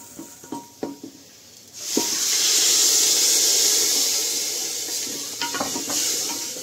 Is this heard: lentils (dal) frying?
yes